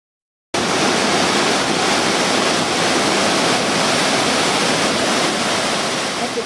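The Iguazu Falls roar at the Devil's Throat, where a huge river volume plunges about 90 metres into a horseshoe-shaped canyon. A dense, constant roar starts abruptly after a brief silence and stays loud and unbroken throughout.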